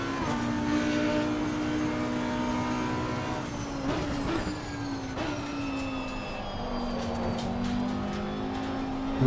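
A race car circles the track in Assetto Corsa Competizione, its engine droning steadily and shifting pitch as it climbs and drops through the gears, loud and continuous from start to finish.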